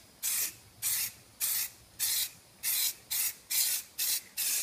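Short aerosol bursts of Flexidip spray onto a car wheel rim, nine hissing pulses in a steady press-and-release rhythm with brief pauses between, close and clear with no talking.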